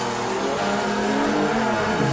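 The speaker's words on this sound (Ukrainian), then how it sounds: "Тут є ще машинка їздить у нас." A car engine drones and revs continuously in the FeelFPV drone simulator game, a steady mid-pitched motor hum with shifting tones and no talk.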